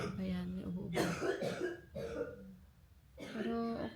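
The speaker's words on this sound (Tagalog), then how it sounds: "Ayan, may ubo-ubo." A young child at home on a rainy day coughs a few short times, the bursts close and interspersed with nearby talking voices.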